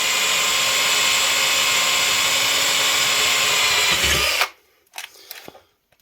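A power drill fitted with a 4-5 mm bit bores steadily with a loud, continuous high whine for several seconds, then cuts off abruptly, leaving a few faint clicks and handling noises.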